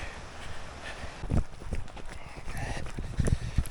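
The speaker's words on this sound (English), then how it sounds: "we did just go by a couple of horses that are heading back" A couple of horses walk past on an outdoor mountain trail, their hooves giving irregular clip-clop thuds at close range over rustling steps and low wind, with a person speaking softly at times.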